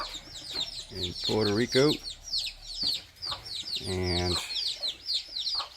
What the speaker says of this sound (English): the cute chickens and roosters.